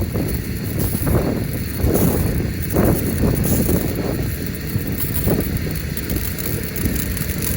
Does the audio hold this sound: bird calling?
no